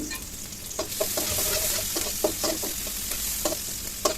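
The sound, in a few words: chopped onion frying in a little oil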